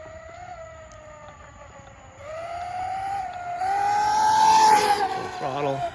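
First-generation Traxxas Maxx RC truck on 4S power with Sledgehammer wheels and tires making a full-throttle speed pass: a thin motor whine climbs in pitch and grows louder as it approaches, with people talking nearby.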